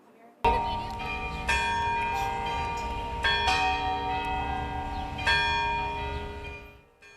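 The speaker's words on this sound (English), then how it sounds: "bells rang out across the city from here, especially at the cathedral" Large cathedral bells ring out across a city in repeated resonant strikes, each tone swelling and slowly decaying, overlapping in a long sustained peal.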